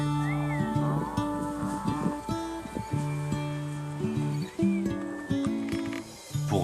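Several cattle moo in turn, long low calls overlapping one another at mixed distances, as a small herd on green, rain-fed Hawaiian pasture is brought in before nightfall.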